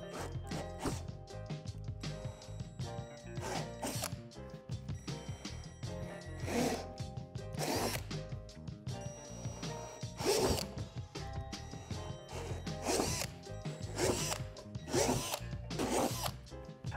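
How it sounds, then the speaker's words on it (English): Power drill fitted with a 3/8 bit boring holes in a Lifetime Double Adventure Tower playset, faint whirring bursts with repeated short starts and stops and ratcheting mechanical noise throughout. "drill out each indentation with a 3/8 drill bit."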